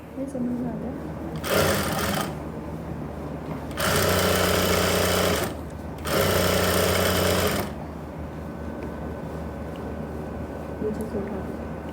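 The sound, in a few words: sewing machine stitching pants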